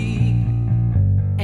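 A recording of a song plays, a dense, loud rock mix with heavy low-end bass and sustained tones, continuous throughout the short span with no speech over it.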